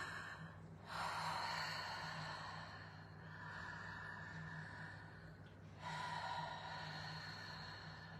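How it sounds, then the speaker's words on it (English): Slow, audible breaths during a guided breathing exercise, three drawn-out airy inhales or exhales rising and falling softly and close, with no talk over them. "So just focus on the sound of your breathing."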